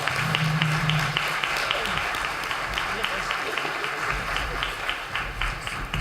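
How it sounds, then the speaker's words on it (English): An audience at a county candidate forum applauds the candidates, a steady spread of clapping across the hall with some voices audible beneath it. "Give them a round of applause."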